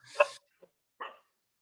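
Dogs at a house by a backyard swimming pool give two short, sharp barks a moment apart, with a tiny yip between, against near silence.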